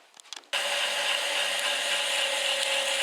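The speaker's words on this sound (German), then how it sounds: "Jetzt machen wir den Schaft noch ein bisschen mit Schleifpapier" Steady, continuous abrasive rubbing of sandpaper on a rusty metal shaft of a VW Passat lower ball joint begins after a brief quiet start and carries on without a break.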